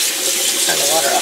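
Tap water runs steadily into a kitchen sink while cottage cheese is being rinsed in a bandana, a close, continuous broadband rush lasting the whole short moment with no talking.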